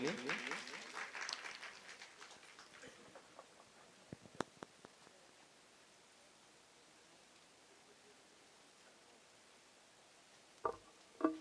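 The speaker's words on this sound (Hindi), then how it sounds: "तालियां बजाइए भाई साहब लोगों के लिए।" Audience applause at an outdoor Ramayan singing competition in Baloda, loud at first and then thinning into scattered claps, with a few sharp knocks and bumps later.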